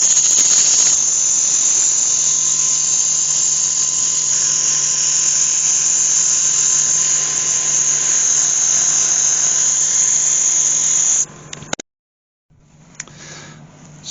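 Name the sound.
sanding cherry wood vase on a wood lathe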